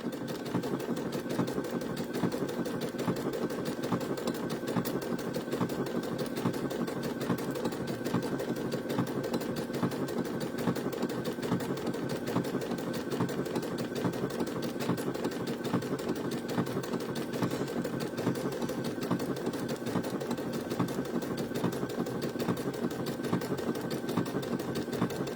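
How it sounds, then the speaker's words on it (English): A sewing machine runs continuously through fabric, its rapid needle rattle and motor hum steady and close for the whole stretch, with no pauses or talk. "if you're sewing like around this fabric, like I'm doing a lot of"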